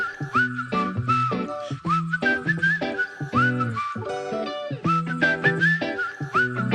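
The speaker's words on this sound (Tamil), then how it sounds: "விசில் சூப்பரா இருக்கு." Melodic whistling in a cute Tamil film song, a loud lead line of clear tonal phrases over backing music, repeating in short bursts with no talking.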